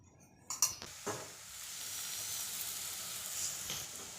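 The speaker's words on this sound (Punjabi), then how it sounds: "ਪਰੌਂਠੇ ਦੇ ਉੱਪਰ ਆਪਾਂ ਘਿਓ ਲਗਾ ਕੇ ਤਵੇ ਦੇ ਉੱਪਰ ਪਾ ਦਵਾਂਗੇ" Besan and onion paratha brushed with ghee sizzles on a hot tawa, a steady close frying hiss with a few sharp clinks and scrapes near the start.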